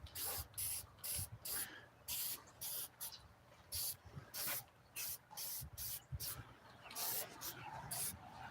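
Metal cast paint sprayed from an aerosol can in an auto interior shop, a series of loud hissing bursts about half a second to a second long with short gaps, close up, with a voice talking faintly underneath.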